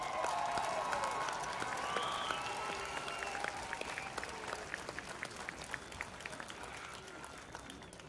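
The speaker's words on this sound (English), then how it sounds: "Give one round of applause for all of our graduates." At a high school graduation ceremony, a large crowd claps steadily for the graduates, loud at first and slowly thinning, with some cheering and voices mixed in.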